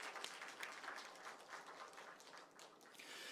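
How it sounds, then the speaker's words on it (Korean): A church congregation claps together during a New Year's Eve worship service, a steady, fairly soft wash of many hands that carries on evenly throughout with no voices. "우리 다시 한번 하나님께 큰 박수로 박수 올려드리겠습니다"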